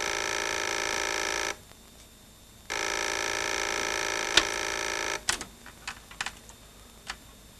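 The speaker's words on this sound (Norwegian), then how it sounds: "Det er telefon til deg, fru Svensen." An old-style telephone bell rings in two long, loud bursts separated by a pause, followed by a few clicks and clatters as the receiver is handled, close and alone.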